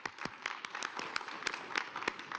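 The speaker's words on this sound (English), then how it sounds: "Warm applause." An audience at a World Economic Forum session on ASEAN claps, a short burst of scattered, fairly faint applause with distinct individual claps.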